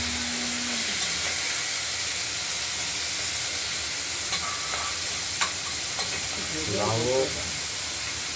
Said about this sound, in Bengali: আগে চিংড়ি মাছগুলো আমরা একটু ভেজে নেব